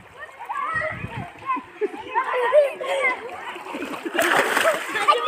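Small children bathe and splash in floodwater around a house, with bursts of close, choppy splashing and sloshing mixed with their chatter and voices throughout.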